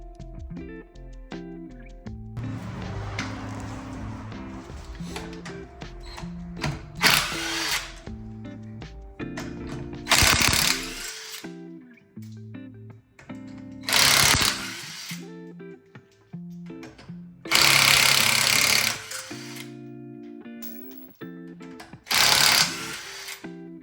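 A power tool, likely an impact wrench, works the wheel bolts off a budget BMW in loud repeated bursts of hammering whir, each a second or two long, separated by quieter stretches of garage noise.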